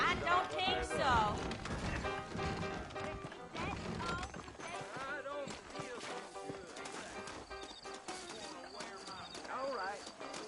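Horse hooves clip-clop in Red Dead Redemption, mixed with music and voices, the hoofbeats coming in uneven bursts at moderate volume.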